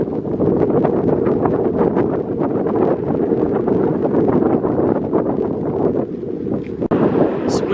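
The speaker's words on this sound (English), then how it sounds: "It's pretty windy here." Strong gusts roar across the microphone at Newfoundland Gap, a mountain overlook in the Great Smoky Mountains, producing a loud, constant low rumble and buffeting that barely lets up.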